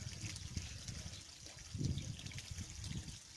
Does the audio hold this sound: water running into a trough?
yes